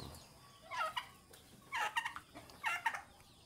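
Texas gamefowl chickens kept as breeding stock in a backyard give three short, faint, raspy calls at a distance over a quiet outdoor background.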